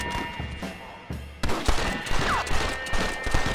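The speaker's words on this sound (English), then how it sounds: "é gostosinho de atirar de rifle aqui" Rifle shots ring out in the Red Dead Redemption video game: a quiet opening, then several sharp, loud cracks in fairly steady succession over faint in-game background sound.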